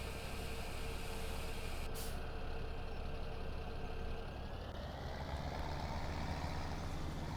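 Truck in Farming Simulator 2017 gives a short sharp air-brake hiss near the two-second mark, set against a steady engine drone that continues without interruption throughout.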